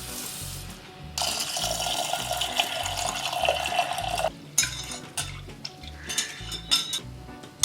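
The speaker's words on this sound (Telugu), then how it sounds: "కందిపప్పును బాగా శుభ్రంగా కడుక్కొని ఒక 2 గంటలు నానబెట్టుకోవాలి." Soaked toor dal being washed under running water, a loud gushing tap stream with sloshing and clinking of a metal vessel, alone and close.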